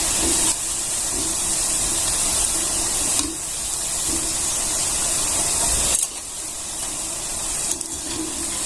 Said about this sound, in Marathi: तर सगळे अशा कलरवर आपल्याला तळून घ्यायचे अजून एक दोन सेकंद तळून घेऊया